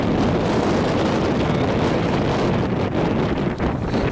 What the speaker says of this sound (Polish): I teraz walczy Piotrek, walczy z wiatrem.